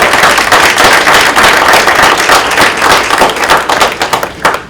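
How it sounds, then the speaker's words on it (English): A crowd at a constituent services day gathering applauds, a dense, steady wash of many hands clapping close and loud, thinning toward the end into scattered individual claps. "So give yourself a round of applause."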